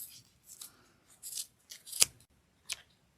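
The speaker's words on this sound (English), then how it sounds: "Just take your scissors, plant it right between the two arms of one side, and start snipping." Scissors snipping through pom pom yarn give several crisp, close cuts spaced irregularly across a few seconds, with quiet pauses between them and no talk.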